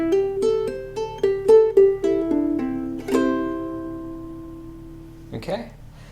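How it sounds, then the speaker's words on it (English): A short ukulele lick mixing hammer-ons and pull-offs, a quick cluster of plucked notes gliding between pitches before one note rings out and fades, followed by a faint brush of handling noise. "So now we have a hammer-on and pull-off lick"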